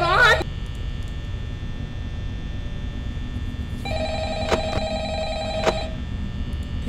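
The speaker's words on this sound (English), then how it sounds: "Pick up the phone!" A telephone ringing in the Five Nights at Freddy's video game, a steady electronic ring with a few brighter repeated pulses over a low hum, following a brief burst of sound at the start.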